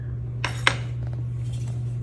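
A ceramic lid is set down onto the gallery of a handmade pot, giving two quick, close clinks about a quarter second apart over a steady low hum, followed by faint scraping.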